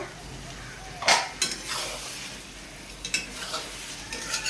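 Meat sautéed with onions in a pot for a Bengali meat curry, a low steady sizzle punctuated by a handful of scraping, clattering stirs of a metal spoon against the pot, close and moderately quiet, no talking.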